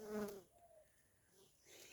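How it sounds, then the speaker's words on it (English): Bees buzzing around coriander seeds in an autumn garden in Australia: a faint, close insect drone that rises briefly at the start and end, with quiet stretches between. "Bees are still going unreal around me coriander seeds."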